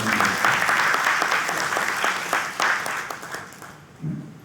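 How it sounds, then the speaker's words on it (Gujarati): Enthusiastic applause from a gathered audience at a religious Bhagavat Saptah recitation in Haridwar, dense sustained clapping that gradually thins out toward the end. "મારા તરફથી જોરદાર તાળીઓ"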